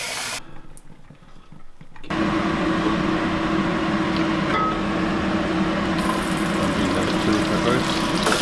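Running water rinses rice wine off marinated gaper clams, a steady broadband wash starting abruptly after two seconds of quiet and continuing evenly, close and fairly loud.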